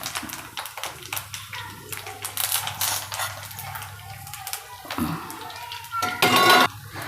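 Mustard seeds, cumin, sesame and curry leaves drop into a hot pan, giving a run of light taps, pops and clinks with a bright crackling burst near the end, while a person talks over most of it.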